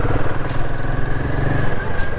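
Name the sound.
motorcycle passing by on the road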